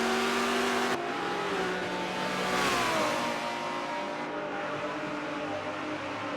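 Race cars accelerate hard in a circuit race, engines rising in pitch as an RX-7 holds the inside line, with a sharp cut in the engine tone near the start and a loud, continuous roar throughout.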